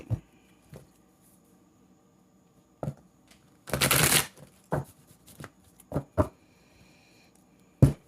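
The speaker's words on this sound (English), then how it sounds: "Good shuffle." A deck of tarot cards is shuffled in several short, crisp riffling bursts with a longer fluttering run in the middle, close up and separated by quiet pauses.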